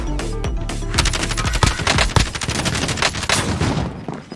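Gunfire rattles in Call of Duty Warzone Pacific on Rebirth Island. Loud, close automatic fire rips out in rapid bursts with dense overlapping shots, and there is no talking.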